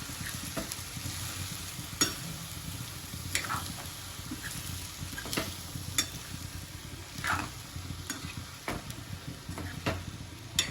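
Spoon scrapes and stirs leftover cooked rice into a sizzling pan of vegetable pulao, giving sharp repeated clacks at irregular intervals over a soft, constant frying hiss, close by and with no talking.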